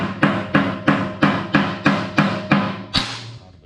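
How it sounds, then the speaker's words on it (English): Hammer and dolly working car body metal: about ten sharp, evenly spaced ringing metallic strikes, close and loud, each with a short decay, the last blow ringing out alone. "I'll have to hammer and dolly that just a little bit."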